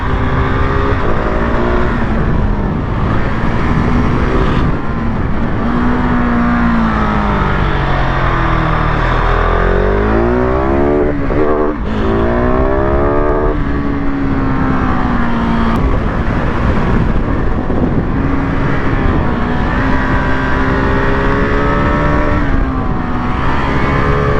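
A supermoto motorcycle engine revs hard at full throttle for a long stretch, loud and close, with rising and falling pitch sweeps as it shifts through the gears.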